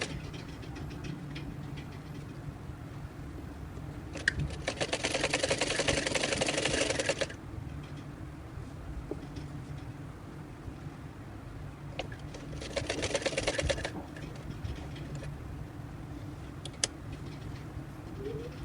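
A sewing machine stitches piping onto a kameez in two bursts of rapid, steady whirring, each a couple of seconds long, separated by quieter handling and low background noise.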